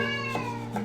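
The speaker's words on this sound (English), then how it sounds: "my cat's like 17 years old, and she is so damn loud" An elderly cat, about 17 years old and nearly deaf, gives a loud, close, drawn-out meow with a second rising call near the end, alone without talk.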